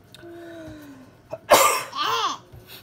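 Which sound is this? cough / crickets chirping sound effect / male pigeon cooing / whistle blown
cough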